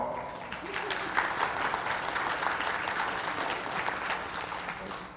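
Church congregation applauds their host senior pastor at First Presbyterian Church in Douglasville, a steady, dense wash of clapping from many hands that holds evenly loud throughout.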